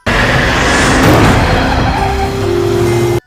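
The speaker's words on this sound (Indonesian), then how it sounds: "mobil menghantam pria itu hingga terkapar" A car skids hard with loud tire squeal and engine roar before hitting a man, the screech sustained and close for about three seconds, with a high tonal whine rising toward the end.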